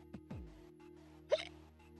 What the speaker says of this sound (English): I have the hiccups, guys.